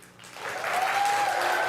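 Applause from the public audience at a city council meeting, starting faint and swelling into steady clapping for over a second.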